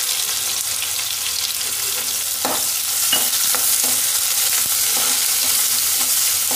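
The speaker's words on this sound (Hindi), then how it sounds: "लहसुन और मिर्च हमारा हो गया है, तो इसमें मैं ये प्याज डाल दूंगी।" Onion frying in hot oil with garlic and chili for dal kachauri and aloo sabji, a loud steady broadband sizzle with occasional sharper stirring scrapes and pops, close up and continuous with no talking.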